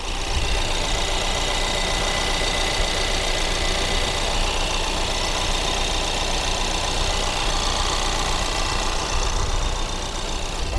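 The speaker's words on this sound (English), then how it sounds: "I'll go ahead and start it up for you so you guys can hear." A 2022 Ford Maverick Lariat AWD engine idles steadily and quietly up close, a smooth continuous hum with no talking over it.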